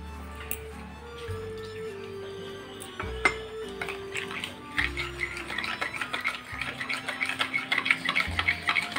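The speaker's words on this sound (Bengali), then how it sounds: "দইয়ের সঙ্গে খুব ভালো করে মিশিয়ে নিতে হবে দুধটা।" A spoon stirs lukewarm milk into yogurt in a bowl for mango doi, clinking against the sides in quickening strokes beneath soft background music.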